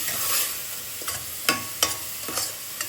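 Grated coconut fries in a pan for coconut payasam, a steady close sizzle broken by several sharp scraping strokes of a spoon stirring against the pan.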